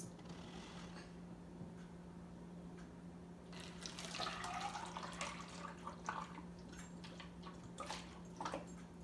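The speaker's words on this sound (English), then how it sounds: "So Bentley, I'm going to hold the funnel. If you could slowly pour the water in for us." Faint water splashes and trickles in irregular bursts as it is poured slowly through a funnel, over a low steady hum, with no one talking.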